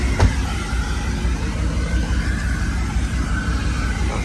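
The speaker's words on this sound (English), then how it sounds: "How this car sound?" A Dodge Challenger Scat Pack's engine runs steadily nearby, a loud, deep, even rumble that holds throughout, with one brief sharper blip near the start and no talking.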